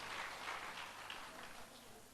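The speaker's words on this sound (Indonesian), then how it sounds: "sekali lagi tepuk tangan saudara bagi Tuhan yang luar biasa" A church congregation applauds during Sunday worship, a steady, fairly quiet wash of many hands clapping together that holds even throughout and fades slightly near the end.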